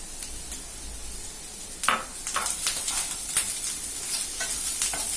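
Garlic cloves and poppy seeds frying in a pan, a steady soft sizzle with a few sharper stirring scrapes and crackles partway through, close and moderately quiet with no talking.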